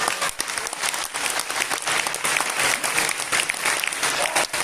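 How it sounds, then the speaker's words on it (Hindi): An audience at a business coaching seminar claps loudly, a thick continuous wash of applause with some voices faintly mixed in. "एक बार जोरदार ताली म्यूजिक के साथ, जोरदार ताली बजा दीजिए।"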